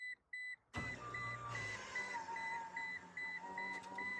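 Power window motor on a worn Toyota Tacoma whirring steadily for several seconds after a few short beeps, close and fairly loud, with a continuous mechanical drone.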